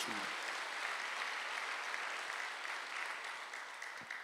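A church congregation at a Sunday worship service applauds together in a steady, dense clatter of clapping that lasts several seconds and tapers slightly at the end.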